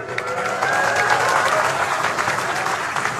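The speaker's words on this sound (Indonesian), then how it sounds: "Tepuk tangan semuanya, keren." A crowd at a National Awakening Day ceremony applauds with dense, sustained clapping for several seconds, loud and fairly near, with faint voices mixed in.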